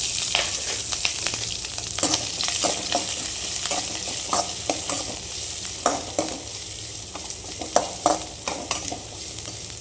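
Chopped onions sizzle and crackle in hot oil in a pan after mustard seeds have spluttered, a steady loud frying hiss punctuated by stirring scrapes and pops.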